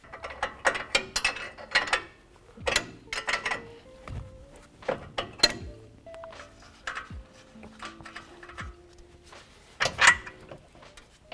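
A wrench or ratchet works loose the strut mount nuts on a 2021-2023 Ford F-150 during a Fox 2.0 coilover leveling kit install, with repeated close clicking ratchet bursts and metallic clanks.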